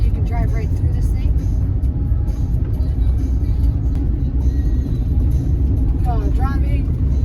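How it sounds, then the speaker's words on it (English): A car drives through Ásbyrgi Canyon in Iceland, its steady engine and tyre rumble droning close and constant throughout, with people talking inside. "Driving in the canyon, Ásbyrgi Canyon."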